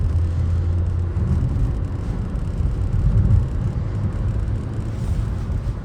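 Skoda Octavia Scout with a 1.8 TSI engine, freshly rebuilt at 140,000 km, droning steadily while driving, a low continuous engine and road rumble with wind noise and a slight rise in revs midway.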